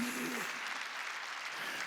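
A church congregation at a Sunday worship service claps together, a brief dense burst of applause at moderate level, with a voice briefly heard at the start.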